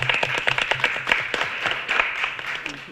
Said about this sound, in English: Can we just clap for that for a minute?